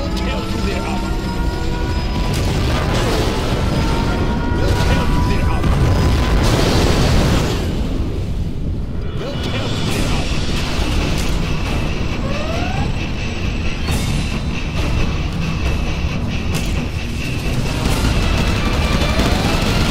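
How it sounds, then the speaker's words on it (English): A nuclear missile strike in C&C Generals Zero Hour roars as a massive, sustained explosion, a dense rumbling blast filling the whole stretch at high volume with rolling debris-like surges and no break. "We have launched our nuclear missile."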